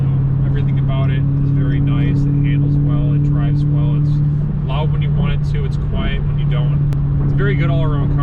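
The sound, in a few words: Dodge Charger SRT Scat Pack engine while driving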